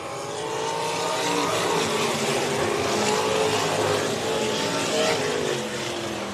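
A field of sprint cars roars away on a green-flag restart in a feature race at Underwood, a loud, sustained engine drone rising and overlapping as the pack accelerates.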